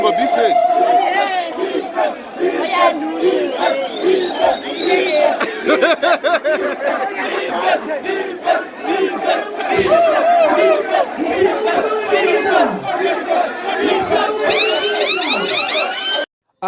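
Concert fans chanting the singer's name, a dense, loud crowd roar of many voices that keeps going throughout, with shouts and chatter mixed in near the microphone.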